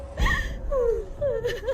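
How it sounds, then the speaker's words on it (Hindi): A horror-story sound effect of someone crying: a sharp gasp, then thin wavering whimpers and wails rising and falling, eerie and close. "और किसी के रोने की आवाज सुनाई दी।"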